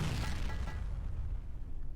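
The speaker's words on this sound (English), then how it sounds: "causes a giant explosion that doesn't damage you." A MIRV missile detonates in the video game Hearts of Demons, a dense, rumbling explosion that booms loudly and then decays over about two seconds, with no voices.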